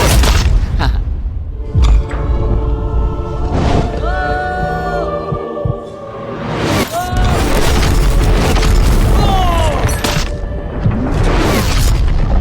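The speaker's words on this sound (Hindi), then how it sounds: "3, 2, 1, लैम्बोर्गिनी को गिरा दो" A heavy crash as a Lamborghini drops onto a pile of cardboard boxes, a loud booming thud amid shouting and excited voices throughout.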